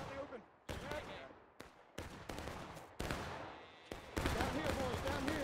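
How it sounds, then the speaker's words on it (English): Musket gunfire in the Civil War video game War of Rights, a series of sharp shots and ragged volleys in quick succession, some near and loud, others farther off, with voices talking underneath. "We got shots here."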